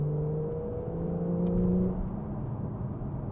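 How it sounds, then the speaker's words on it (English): A 991.1-generation Porsche 911 Targa engine runs in sport mode from inside the car. A droning hum swells briefly into a stronger rev partway through, then settles back to a steady whir, with no talking. "listen to that engine"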